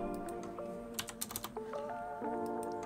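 A computer keyboard is used while editing in After Effects, giving a quick cluster of light key clicks near the middle. The clicks are soft and close, over a faint steady tonal background.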